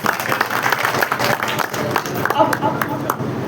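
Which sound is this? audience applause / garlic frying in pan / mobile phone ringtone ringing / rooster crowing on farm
audience applause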